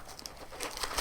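Bubble wrap crinkles and rustles close by during unpacking, a brief burst of crisp crackling that grows denser toward the end, with no talking.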